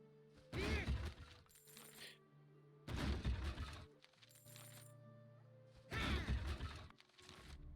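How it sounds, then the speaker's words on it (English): Barrels being smashed in the video game Drakensang: The Dark Eye, three separate crunching, clattering breaks spaced a few seconds apart over quiet ambient music. "let me go smash these here barrels."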